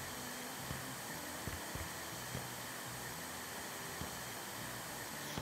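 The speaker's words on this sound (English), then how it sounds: "Vacuum up all the leaves real quick." A vacuum in House Flipper 2 sucks up leaves, a steady loud broadband whoosh that runs unbroken, with faint light ticks of debris now and then.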